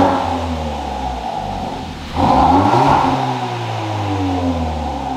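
A Hyundai i30 N-Line with an Xforce catback exhaust and its valves open revs hard at full throttle, giving a loud, close, rising engine roar with no talking.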